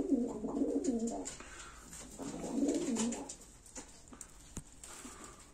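Shirazi pigeons coo repeatedly in low, rolling phrases, several birds close by in a coop, with faint rustling and shuffling around them.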